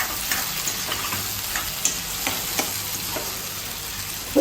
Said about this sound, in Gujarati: ટામેટા ગળે ત્યાં સુધી એને શેકાવા દેવાનું.